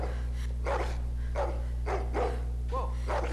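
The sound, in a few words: dog barking in The Walking Dead video game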